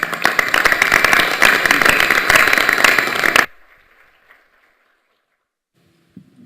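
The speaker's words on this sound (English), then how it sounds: "Let's give him a round of applause" Board of regents meeting attendees give a round of applause, loud close clapping that cuts off sharply partway through, leaving near silence with a faint shuffle and a small sound at the end.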